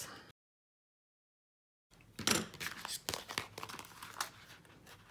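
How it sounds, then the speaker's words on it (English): Tape being peeled from the flaps of a craft box, crinkly tearing and crunching noises after a brief silence, close and moderately loud, with a few sharp rips. "I'm going to remove the tape from all little flaps."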